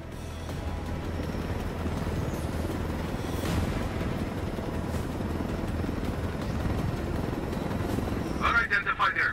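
Helicopter flying in Ghost Recon Wildlands, a constant low rotor drone and engine rumble throughout, with some brief higher-pitched chirps near the end.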